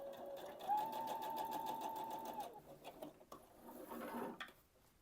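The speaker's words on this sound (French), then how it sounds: "Pour terminer cette robe, maintenant je vais aller coudre l'épaule." A sewing machine stitches the shoulder seam of a dress, a quiet, close, rapid mechanical chatter running steadily, briefly pausing, then resuming with a soft handling clunk.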